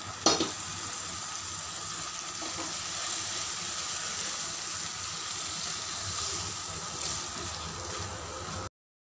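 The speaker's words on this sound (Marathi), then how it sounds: "आता यात हा राजमा टाकून द्यायचा आहे." Fresh rajma beans dropped into a spicy Maharashtrian gravy, giving a steady close sizzle and bubbling with stirring scrapes throughout and a sharp clatter near the start, with no talking.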